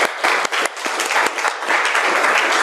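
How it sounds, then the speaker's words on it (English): Audience applause greets Valentina as she comes out, a dense steady clapping from a crowd that fills the whole stretch with a few sharper claps standing out near the start. "Round of applause for Valentina."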